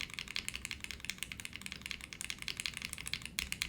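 Fast, continuous typing on a Monokei Kei v2 mechanical keyboard with Gateron Ink switches and a copper plate gives dense, crisp clacks in a quick uneven rhythm, close and alone.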